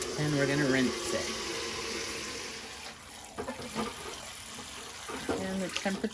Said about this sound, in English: we're going to rinse it.